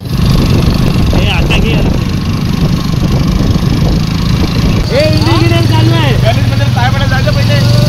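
An old motorcycle labours uphill, its engine droning steadily and loudly through the whole stretch while people talk over it.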